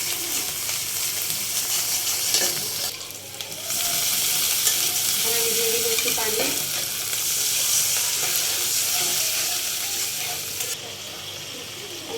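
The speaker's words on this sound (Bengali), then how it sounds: "এখন আমি মরিচ জিরা আর রসুন একসাথে বেটেছি এটাও আমি ভেজে নেবো" Ground chili, cumin and garlic paste frying in a pan for a fish curry, a continuous loud sizzle with a brief dip partway, while a voice speaks briefly over it.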